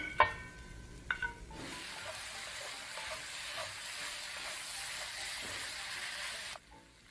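Vegetables for an eggplant and pork stir-fry hit the hot pan with a couple of clanks, then a steady, loud sizzle and hiss carries on alone for several seconds before cutting off.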